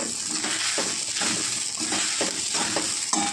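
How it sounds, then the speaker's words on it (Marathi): Sago pearls roasting in a pan make a dry, rustling scrape as they are stirred, with repeated rhythmic strokes over a steady soft sizzle, close and moderately loud, with no talking. "असं आपला शाबू मस्त भाजलं तुम्ही बघू शकता"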